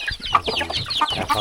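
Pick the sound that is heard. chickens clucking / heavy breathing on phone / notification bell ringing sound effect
chickens clucking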